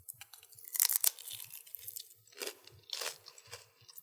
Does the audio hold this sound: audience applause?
no